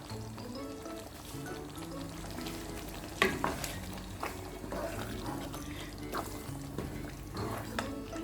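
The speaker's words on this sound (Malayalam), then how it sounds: "എന്നിട്ട് വീണ്ടും ഇളക്കിയിട്ട് മൂടി വെച്ചിട്ട് വേവിച്ചെടുക്കാം." Chettinad chicken curry being stirred in a pan, with a steady oily sizzle under it and irregular scraping and clattering strokes of the spoon against the pan, close and clear, with no talking.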